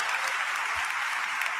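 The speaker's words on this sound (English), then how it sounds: "let's once again give Ben Crump a big round of applause" An audience at a gathering supporting victims' families breaks into dense, sustained applause, a steady wash of clapping hands filling the room without pause.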